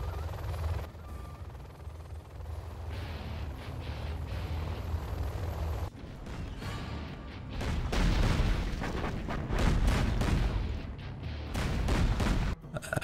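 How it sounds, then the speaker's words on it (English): A carpet bombing run in a real-time strategy tank battle game. Low rumbling explosions build into a dense, loud barrage of overlapping booms, with helicopter-like drone and gunfire mixed in and no voices. "Carpet bomb comes in."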